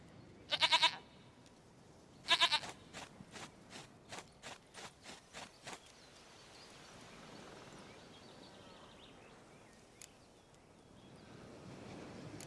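A goat in The Witcher 3 bleats in two sharp, loud bursts, followed by a run of evenly spaced hoof-like clops and then a low rustling ambience with one faint tick.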